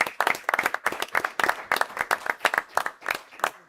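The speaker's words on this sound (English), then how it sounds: "So maybe we could give him a round of applause right there." An audience at a school board meeting applauds with a short, steady round of clapping from a small crowd in a room, close and fairly loud, with no talk over it.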